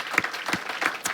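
A church congregation claps together in a quick, rhythmic beat, each clap a crisp burst at a fairly even pace, near and moderately loud, with no voices on top.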